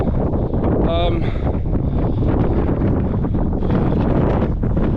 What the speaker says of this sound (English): the wind has just picked up. The gusts.